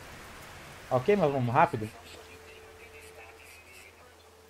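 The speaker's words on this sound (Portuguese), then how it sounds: "Nossa, é uma chuva aqui. Uma tempestade quente." Steady rain and a hot storm in a chemistry-themed video game, a soft continuous wash that carries on under and after a brief burst of speech.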